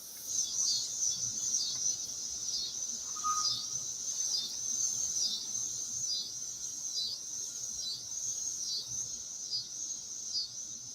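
Crickets chirp in a steady pulsing trill that sounds slowed down, a continuous rhythmic buzz heard alone with no talk.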